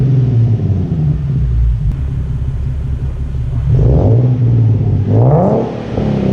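A Nissan 370Z Nismo fitted with AAM Competition short tails exhaust idles with a deep, steady rumble, then gets revved twice, each rev rising and falling sharply; loud and close, with no talking.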